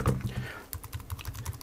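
Keystrokes on a computer keyboard at a terminal, a quick irregular run of sharp clicks that follows a brief murmur of speech, fairly close and distinct.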